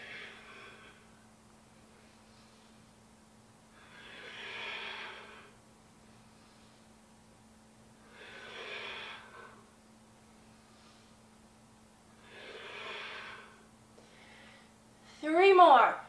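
Slow breathing during a vigorous vinyasa yoga flow at home: four long, even breaths spaced a few seconds apart, heard up close in a quiet room, ending with a short sharp vocal breath.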